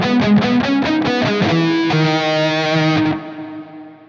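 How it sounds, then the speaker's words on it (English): A distorted electric guitar through the Blackstar St James plugin plays a few quick chords, then holds a ringing chord that fades into a smooth, lingering digital reverb tail. "There is a reverb that's kind of a digital reverb"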